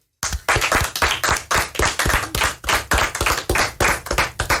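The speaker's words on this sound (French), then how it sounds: "On l'applaudit bien fort." A small crowd at a school radio podcast claps steadily for about four seconds, a dense run of hand claps at an even loud level with no talking.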